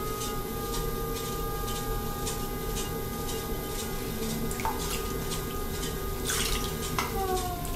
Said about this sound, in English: I like to wring water over the rim before every pull.